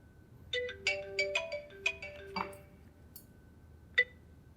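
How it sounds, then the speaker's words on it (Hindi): A mobile phone plays a melodic ringtone while a call is being placed: a short run of bright, clear electronic notes, then a pause and one last tone, with no talking. "फोन लगा उसको, पिंकी को फोन लगा।"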